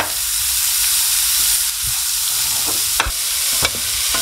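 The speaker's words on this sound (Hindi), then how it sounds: "और कैबेज भी यहीं पे डाल दूंगी मैं। इसे भी मुझे अच्छे से फ्राई करना है, अच्छे से कर लो आप मिक्स।" Cabbage and other vegetables for veg momos stir-fried in a hot pan, a constant loud sizzle broken by several sharp scrapes and clacks of a spatula stirring.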